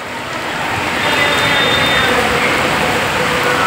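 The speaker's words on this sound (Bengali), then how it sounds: "মুষলধারে বর্ষা হচ্ছে," Heavy monsoon downpour falling steadily outdoors in Baruipur, West Bengal, a loud dense hiss of rain that swells slightly at the start and then holds constant.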